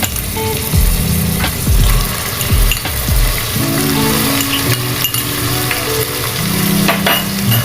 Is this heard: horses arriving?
no